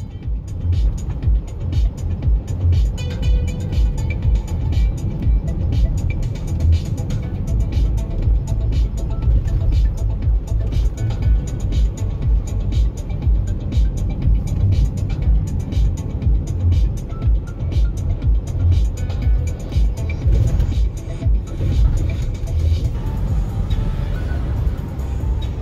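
Steady low rumble of a car driving along a road on a mild autumn day in Ukraine, heard from inside the vehicle as continuous engine and tyre noise at an even level, with occasional faint passing-traffic sounds and no speech.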